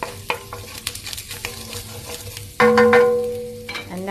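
Turmeric and tomato paste stirred into cauliflower in a hot pan, scattered spoon scrapes and taps over a soft sizzle, then a sudden louder burst of frying hiss near the end.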